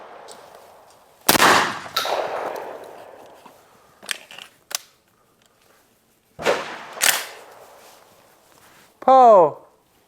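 A Benelli Ethos Super Sport AI shotgun fires at clay targets outdoors, several loud booming shots with rolling echoes spread over the stretch, interspersed with movement and a short shouted call.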